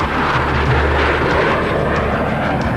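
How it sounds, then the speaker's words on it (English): F-18 jets pass at an airshow, producing a steady, loud jet roar with a broad rushing texture that stays constant across the short stretch. "Our two solo pilots are approaching once again, this time to demonstrate the inverted flight capability of these F-18s"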